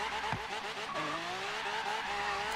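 Tyres squeal and slip as a car loses traction in Forza Horizon 3, a rising engine note whining over a wavering skid that holds steady and fairly loud throughout.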